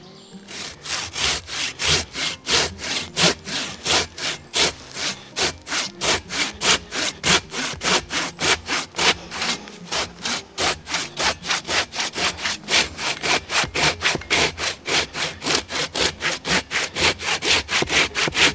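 A Silky Bigboy 360 folding saw cuts through sticky, pitch-laden wood in fast, even back-and-forth strokes, close and loud, with a steady rasping rhythm of roughly two to three strokes per second throughout.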